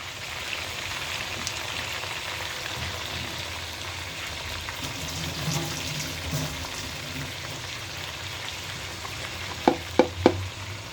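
Ginger, garlic and onion paste frying in a pan for a homemade Bengali chicken curry, with a steady soft sizzle and crackle throughout and three sharp utensil taps near the end.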